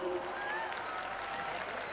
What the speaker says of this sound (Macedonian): Аплауз.